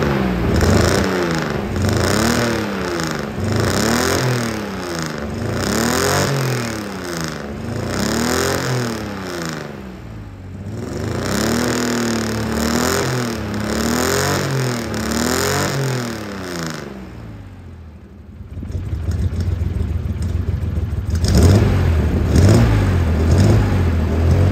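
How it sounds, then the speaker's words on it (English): Ford Ranger engine with suspected head gasket trouble and water in the exhaust, revved hard in repeated rising and falling bursts, loud and close, then settling to a rough idle with a brief pause between runs. "Let's rev the engine up and get the water out of the exhaust."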